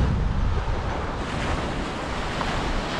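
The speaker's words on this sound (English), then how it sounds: "So we're making do on another spot here on Pensacola Beach." Ocean surf rolls steadily onto Pensacola Beach under a constant rush of wind buffeting the microphone, a loud, continuous wash with no voices.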